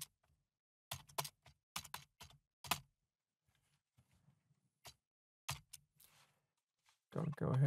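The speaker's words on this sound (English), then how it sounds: "we go ahead and type the title in here" Sharp clusters of computer keyboard keystrokes, close and crisp, come in short bursts with quiet gaps while a title is typed into presentation software, and a voice speaks briefly near the end.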